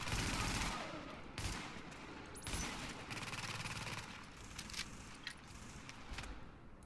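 Sustained automatic turret gunfire from The Division video game, a dense crackling fusillade of rapid shots with a few louder bursts, running steadily throughout at close range with no talking.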